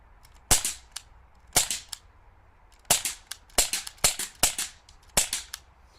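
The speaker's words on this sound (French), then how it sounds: "On va tirer sur cette table" A KWC Jericho 941 airsoft pistol fires BBs at a table in a garden: about a dozen sharp, close cracks, some in quick pairs, separated by short pauses.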